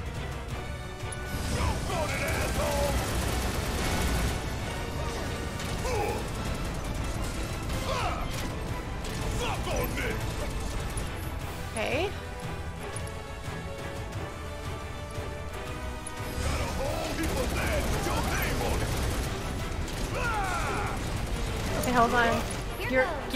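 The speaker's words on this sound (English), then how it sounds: "I think I've got no choice but to, like... keep shooting." Video game gunfire in Final Fantasy VII Remake: repeated shots and crashing impacts over a busy battle soundtrack, with a person talking throughout.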